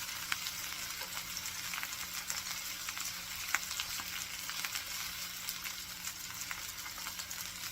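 Beef-wrapped rice balls, nikumaki onigiri, fry in a pan with a steady, close sizzle and fine crackling spatter throughout, with no voices over it.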